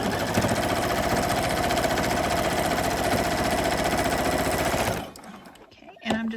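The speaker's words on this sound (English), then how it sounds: "put my line gauge right there where I sewed at the very beginning, and stitch it down." A sewing machine stitches a seam on a small boxy fabric pincushion, a steady rapid mechanical whir that runs continuously for about five seconds, then stops abruptly, leaving faint handling noises.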